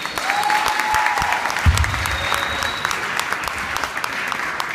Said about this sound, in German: Das ist erstmal dein Applaus.